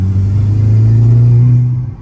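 A loud, deep throaty engine roar from a 330 hp Volkswagen Golf VI R holds steady for about two seconds, then eases off slightly at the end, close by with no voices.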